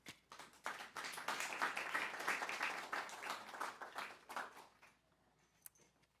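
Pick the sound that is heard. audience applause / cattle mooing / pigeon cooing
audience applause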